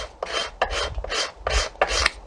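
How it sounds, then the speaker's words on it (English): A gooseneck scraper rasps across an Osage orange bow stave in five quick, even strokes, each a dry, bright scrape with a brief pause between, close and alone. "use my gooseneck scraper"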